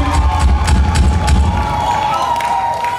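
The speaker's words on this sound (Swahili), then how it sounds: "Pigieni makofi kwa kamati nzuri." Wedding ceremony guests cheering and clapping loudly, a dense continuous crowd roar with shouts and applause throughout.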